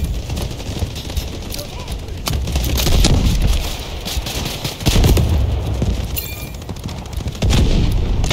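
Rapid bursts and single shots of gunfire in Delta Force Hawk Ops crackle loudly and close, mixed with heavier booms and constant battlefield noise throughout.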